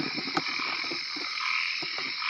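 Large frogs croak in a rice-field or pond setting at night, a dense chorus of overlapping croaks and trills running steadily throughout, with a few louder nearby calls standing out above the constant background din.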